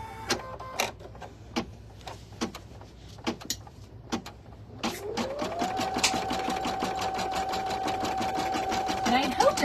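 An embroidery machine stitches placement lines onto stabilizer. A few separate clicks and thumps lead into a steady, close, whirring stitch run with a sustained motor whine, and a voice speaks over the start.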